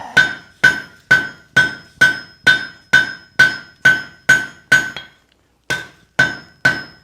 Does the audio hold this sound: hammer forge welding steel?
yes